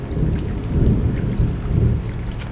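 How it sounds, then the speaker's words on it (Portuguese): A thunderstorm fills the scene with a deep, continuous rolling rumble of thunder over the steady hiss of heavy rain, loud and close, with no voices. "Qual macumbeiro que não ouve um trovão aí e fale parrei, Ansan?"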